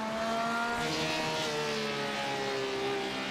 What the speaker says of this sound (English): you can hear that Porsche motor